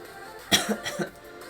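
A person coughs in a quick cluster of three or four harsh bursts, close to the microphone, with quiet background before and after.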